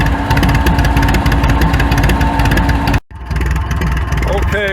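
An International Harvester TD9 dozer's diesel engine idles while warming up in snow, a steady, loud rhythmic chugging that cuts out briefly near the end before running again.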